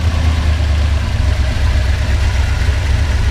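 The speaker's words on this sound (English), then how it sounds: "I mean, it purrs." A 1968 Ford F250 bumpside pickup with a four-speed idles close by, giving a loud, steady, low throbbing rumble with no talk over it.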